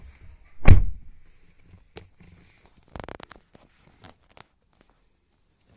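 Door of a Toyota Hilux Revo pickup slamming shut, one loud solid thud near the start, followed by scattered faint clicks and rustles of someone moving inside the cab.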